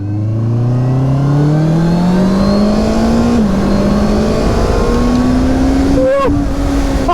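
A 2023 Honda CBR650R sport motorcycle accelerates in a long continuous pull, its engine note climbing steadily with a brief dip around a gear change, loud and close throughout.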